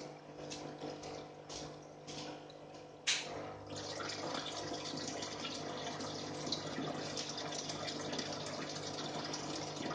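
Tap water runs steadily to fill for an aquarium water change of discus fish, a constant gushing rush that grows fuller after a brief start with a few short bursts.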